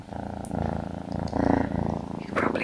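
A cat purrs close by in a steady, rumbling rhythm of soft pulses, with a couple of faint clicks and rustles near the end.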